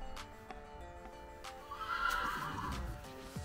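A horse in its stable box whinnies close by with a drawn-out neigh partway through, over steady low background hum and a few faint knocks, no talking.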